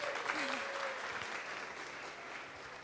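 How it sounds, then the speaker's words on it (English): Audience applause after a speaker is introduced at a talk on building the web for the interchain, steady clapping from a crowd through the whole stretch with some faint background voices. "let's give him an applause"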